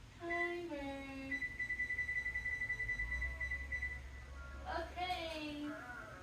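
A kitchen timer alarm rings during pasta cooking, with a sustained electronic tone that holds steadily through the middle, under and between people talking nearby.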